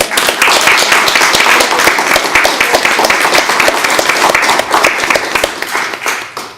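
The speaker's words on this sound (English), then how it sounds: "how about a round of applause for our..." Loud, sustained applause from an audience at a school committee meeting honoring students, with many distinct hand claps overlapping in a busy, even rhythm for several seconds.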